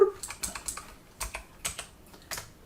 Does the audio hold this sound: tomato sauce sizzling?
no